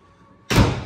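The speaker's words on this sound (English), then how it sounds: "And your tailgate closes" The tailgate of a Dodge Dakota R/T pickup shuts under a newly installed bed tonneau cover, a single sharp slam after a quiet moment.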